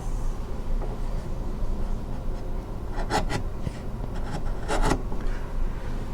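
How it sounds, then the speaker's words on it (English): A freshly sharpened chisel pares pine end grain, with two short bursts of crisp slicing rasp standing out above a steady low background hum, close and moderately loud. "let's give this chisel a test on some pine end grain shavings."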